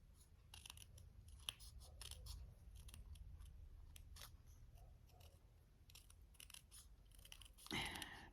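Scissors snip through card paper during a Stampin' Up card-making class, a quiet run of short, crisp cuts coming in irregular clusters against a soft background hum, with a slightly louder rustle near the end.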